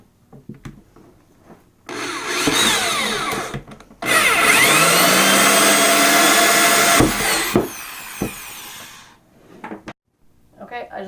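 An electric drill bores a one-inch hole through the plastic lid of a 5-gallon bucket: two long, loud, steady grinding runs, the second longer, with quiet handling clicks before and after.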